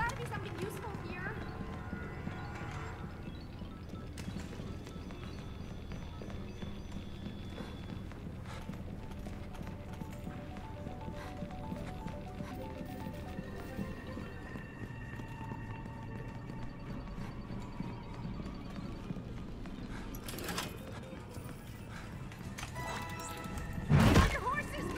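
Horse hooves clip-clop steadily through a video game scene, mixed with clattering, thuds and a sharp crash near the end, while a voice talks over it.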